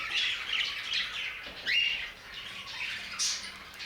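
Budgerigar chicks in a nest box squawk and chirp in a series of close, shrill, scratchy calls, alone and without talk.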